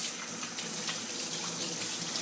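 Tap water runs steadily into a sink while homemade Moroccan black soap made with eucalyptus and olive is rinsed off, a close, continuous splashing gush with no talk.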